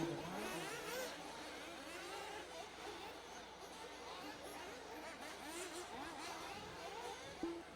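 Nitro RC buggies in a 40+ class B-main race at LCRC Raceway: high-pitched, warbling engines rev and whine continuously at a distance over a low background murmur of the crowd.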